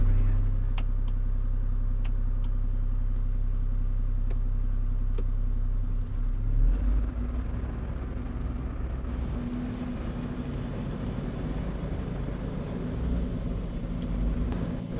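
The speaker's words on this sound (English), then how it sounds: "I'll keep the transmission in first gear, but also for the descent, I'll have the exhaust brake active on the second position" An IVECO Eurocargo 4x4 fire truck descends in first gear with its exhaust brake active, giving a steady, deep low drone that shifts partway through into a rougher, broader engine rumble, with no talk.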